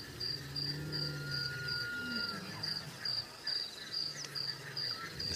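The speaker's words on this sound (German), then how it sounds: "Hören Sie die Zikaden?" Insects chirp steadily in a warm outdoor setting in Africa, a continuous high, pulsing drone of cicadas, with faint lower tones and rustling beneath.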